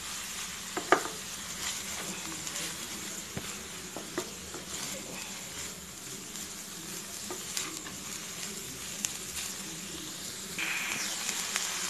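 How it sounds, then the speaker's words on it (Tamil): Vegetables and shredded cabbage sautéing in oil for a Mahalaya Amavasai meal, a steady soft sizzle under occasional scraping stirs and light utensil clicks against the pan, with no talking. "மிக்ஸ் பண்ணி 2 நிமிஷம் நல்லா வதங்கட்டும்."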